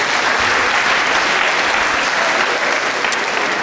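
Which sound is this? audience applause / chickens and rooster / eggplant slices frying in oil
audience applause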